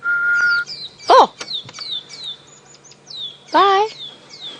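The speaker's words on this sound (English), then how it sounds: "this tiny little pearl-spotted owl is going to provide us with a treat" A person whistles a steady note, then a small pearl-spotted owl answers with a run of rising whistled notes, followed by a brief vocal exclamation.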